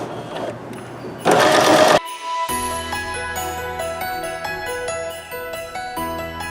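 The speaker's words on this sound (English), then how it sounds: "that's going to give me a nice edge stitch" A sewing machine runs an edge stitch along a fold of lining fabric, its steady whirring motor and rapid needle rhythm close and clear, with one brief louder burst near the start.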